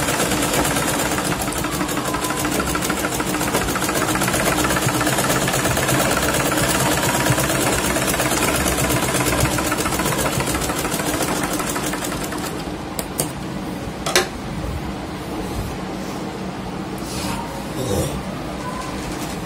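Sewing machine running a reinforcing topstitch over fabric for a prayer hijab made from an orna: a fast, steady mechanical chatter close by, continuous for most of the stretch, then slowing into a few sparse clicks and thumps.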